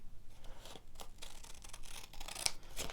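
Scissors snip through scrap paper for a small junk journal, a run of soft, close crisp cuts with a sharper snip near the end, alone without talk.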